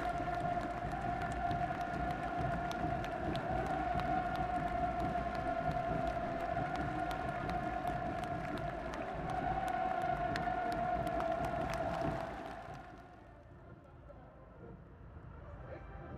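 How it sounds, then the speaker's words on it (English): A large crowd in Pyongyang cheering and applauding for Kim Jong-un, a sustained, distant roar with a steady tonal drone and scattered claps that cuts off sharply near the end, leaving quieter ambience. "who in turn are rapturous in their applause and cheers everywhere you look"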